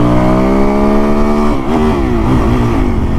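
A Suzuki DR-Z dual-sport motorcycle fitted with an FCR39 clone carburetor pulls hard on a back road, its steady, loud engine drone rising in pitch and wavering briefly as it shifts, with no talking.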